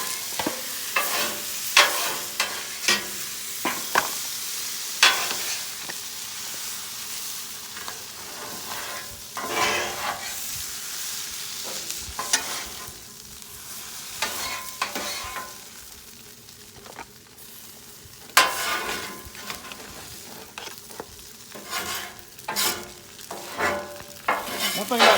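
Thai chicken noodles frying on a Blackstone griddle: a continuous loud sizzle punctuated by frequent metal spatula scrapes and tosses against the flat-top, close up, with no talking.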